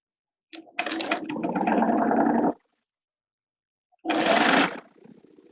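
Sewing machine stitching a fabric scrub cap in two close, loud runs, a fast buzzing whir for about two seconds, a pause, then a shorter burst.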